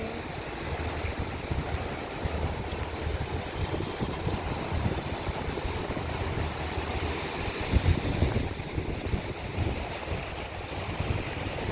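Strong wind buffets and rumbles continuously while waves wash and churn in the background, with a brief louder gust partway through.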